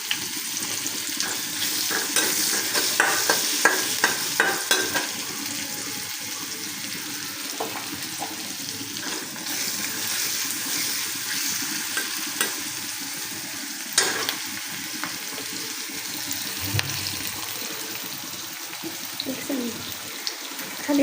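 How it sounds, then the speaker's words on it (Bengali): Yardlong beans frying in a pan, a continuous sizzle with intermittent stirring and clinks, steady and fairly loud throughout, with brief faint noises near the end. "পাশে বরবটি ভাজাটাও বসাই দিই।"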